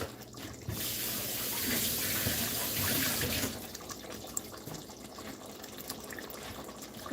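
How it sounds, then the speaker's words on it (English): Running tap water splashes over hands at a kitchen sink, a brief louder gush for a few seconds that then settles into a quieter trickle, with no talking. "Let me wash my hand."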